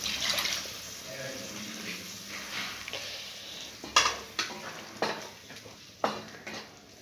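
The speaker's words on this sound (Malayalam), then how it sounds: "നമ്മൾ ഈ ബൗളൊന്ന് കഴുകിയ വെള്ളം ഒഴിച്ചു" Rinse water from a bowl is poured into a hot pan of chicken curry, giving a steady hissing sizzle with a few sharper splashes and pan knocks near the end.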